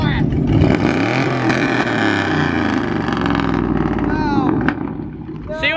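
A pickup truck with a straight-pipe exhaust, muffler and resonator removed, idles and revs nearby with a loud, rough, raw unmuffled rumble, steady throughout, with voices talking over it.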